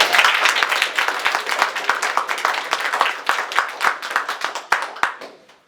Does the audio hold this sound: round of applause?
yes